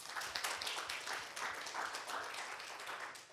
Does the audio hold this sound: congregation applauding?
yes